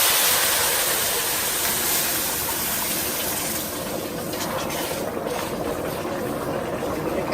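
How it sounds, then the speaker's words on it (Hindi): Water poured into roasted semolina in a hot pan for suji halwa, a steady loud sizzling hiss and bubbling that fills the whole stretch without pause. "ये स्टेज पे हम पानी डालेंगे।"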